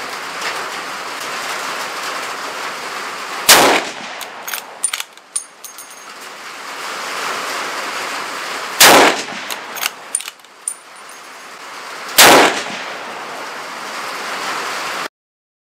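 Rifle shots fired through a muzzle brake ring out as three loud, sharp blasts spaced several seconds apart, each trailed by rattling echoes and clatter against a steady outdoor hiss.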